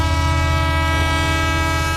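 Train rolling past a closed railway crossing in a Hindi film scene, a steady loud rumble with sustained horn-like tones throughout, no talking.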